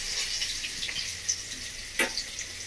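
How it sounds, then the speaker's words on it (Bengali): Chopped green chillies frying in a pan while cooking a bhola fish curry: a soft, steady, fairly faint sizzle with a brief crackle near the end, and no talking. "লঙ্কাটা একটু ভেজে নেব।"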